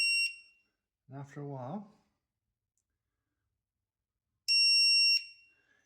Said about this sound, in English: you get a bright LED, plus you get beeping from it